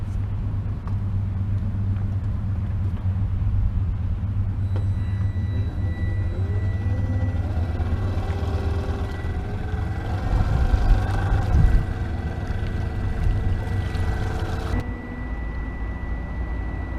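A small boat pushed by a homemade electric outboard motor, a steady low hum and rumble with a rising whine as the motor speeds up mid-run, then settling back, no talk.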